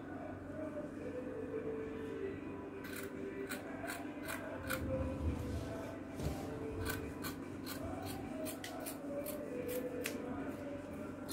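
Scissors cut fabric for an ankara bustier, with a run of crisp repeated snips in clusters over a low rustling background, close up, and faint talk underneath.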